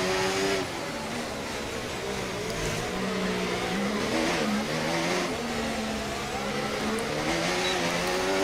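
Formula 1 car engine in the F1 24 racing game at Monaco, a steady sustained roar with shifting revs running continuously and loud throughout, no talk over it.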